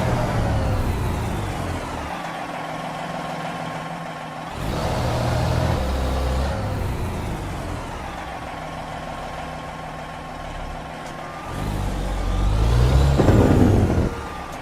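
A rattly truck engine idles in American Truck Simulator, a steady low rumble with mechanical clatter that swells louder toward the end, with no talking over it.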